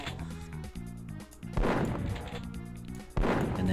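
A chaingunner enemy fires in a Doom map from Deus Vult II, sharp repeated gunshot bursts in two clear volleys, each a rapid rattle of close, loud shots over droning game music.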